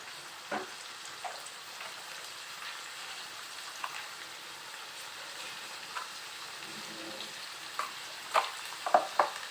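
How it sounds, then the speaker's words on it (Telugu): Ivy gourd frying in a pan is stirred with salt added, giving a soft, steady sizzle with scattered scraping clicks from the utensil that grow more frequent and sharper toward the end. "ఇప్పుడు దొండకాయ ఒకసారి కలుపుకొని కొంచెం సాల్ట్ వేసుకుందాం."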